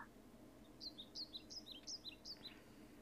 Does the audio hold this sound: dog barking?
no